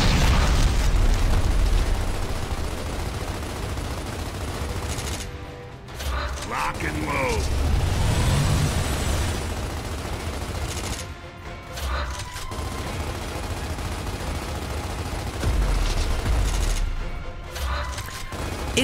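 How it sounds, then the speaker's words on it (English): Gears of War combat with dense, loud gunfire and mechanical clatter, broken by a few short gaps and bursts, while a voice talks over parts of the action. "Just keep shooting."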